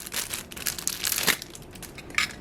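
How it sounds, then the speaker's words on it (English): Clear plastic bag of buttons crinkling and rustling as it is opened and unpacked, close and fairly quiet, with a sharper crackle near the middle and another brief rustle toward the end. "They come in this little clear plastic bag."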